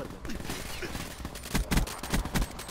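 A handful of quick gunshots in a video game, sharp and fairly close, spaced irregularly in the second half, with someone talking underneath.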